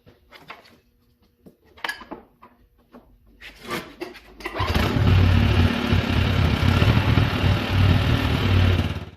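Metallic clanks and handling noises come first, then a Polaris 120 Pro X snowmobile engine fires up and settles into a loud, steady, buzzing warm-up idle close by.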